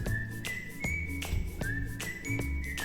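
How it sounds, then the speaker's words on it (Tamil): Pressure cooker whistling on a stove while mutton cooks, a steady shrill hiss repeating in short bursts with faint clinks and kitchen noise beneath. "நல்லா 4 விசில் வரட்டும்."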